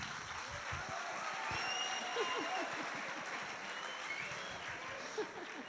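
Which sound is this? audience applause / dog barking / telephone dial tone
audience applause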